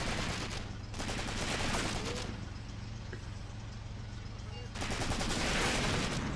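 Gunfight in the war game Graviteam Tactics: Mius Front on a dreary field, a continuous clatter of rifle and machine gun fire, with denser bursts at the start and end, moderately distant.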